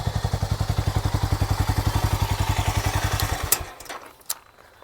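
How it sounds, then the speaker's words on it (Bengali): A Harley-Davidson X440T or Triumph Speed 400 motorcycle exhaust idles close by with a steady, rapid thumping pulse for about three and a half seconds, then falls away to quiet with a couple of sharp clicks. "তো দুটোরই এক্সস্টের সাউন্ড মোটামুটি আমি আপনাদেরকে শুনিয়ে দিয়েছি।"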